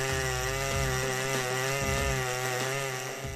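Chainsaws such as a 3120 and a 188 cutting through hard dead oak logs, a loud steady engine whine with harmonic bands and slight pitch dips as the chain bites, continuous and close.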